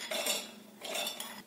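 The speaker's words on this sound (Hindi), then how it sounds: "बाकी दाल को हमने मिक्सी में डाल लिया है" Soaked lentils tipped into a mixer grinder jar while making masala vada batter, giving two short bursts of hard, clattering scrapes against the jar, close and fairly quiet.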